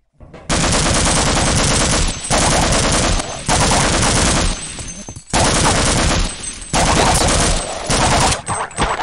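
Gunfire from a weapon in Half-Life: Opposing Force comes in long, loud automatic bursts of rapid shots, each burst separated by short gaps, ending in a few broken final rounds.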